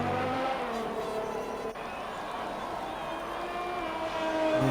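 High-revving Formula 1 race car engine in the F1GXL racing game at the French Grand Prix, a steady loud whine held near the top of the rev range for the whole stretch, with a brief dip partway through.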